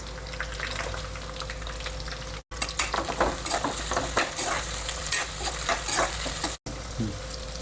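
Onions frying with curry leaves, garlic and dried red chillies in a pan for pepper chicken fry, a steady dense sizzle with repeated stirring scrapes, briefly cut by two short gaps, no talking.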